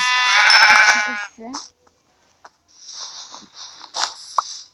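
A sheep in a video game gives a long, loud harmonic bleat, followed by a short grunt and some scattered clicks and bumps.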